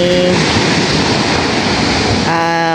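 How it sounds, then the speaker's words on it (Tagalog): Strong, rough sea waves heard from a fishing boat out at sea during stormy weather, a loud continuous roar of surf and rushing water with tonal engine or motor hum at the start and end. "Ayan po at sobrang lalakas po ng alon ngayon"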